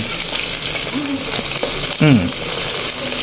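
Longganisa sausage sizzles steadily in a hot pan, a loud, constant close-up frying hiss with an occasional stir or scrape, as a person talks briefly over it.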